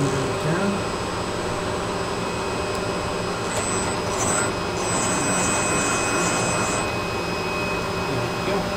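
A CNC lathe machines a piston head, giving a loud steady whirring drone with high tonal whine throughout and a brief rise in harsher cutting noise midway.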